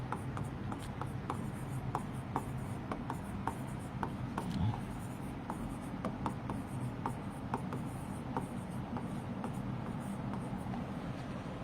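A chemistry lecturer's marker or chalk scratches steadily across a board in short repeated strokes, moderately faint against a steady room hum, with no clear talking.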